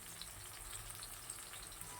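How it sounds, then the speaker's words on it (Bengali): Tomato, onion and garlic fry in a pan with a faint, steady sizzle and a light crackle that runs unbroken throughout, with no talking. "টমেটোটা খুব ভালো করে ভাজা হয়ে গেছে"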